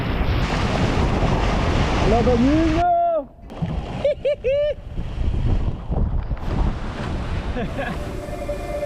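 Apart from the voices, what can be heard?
strong wind at sea on a boat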